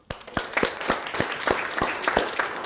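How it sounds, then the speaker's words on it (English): An audience at the opening of a talk applauds itself, a moderate burst of many overlapping hand claps with a few sharper individual claps standing out, fairly close and continuous for a few seconds without speech. "So give yourselves a round of applause."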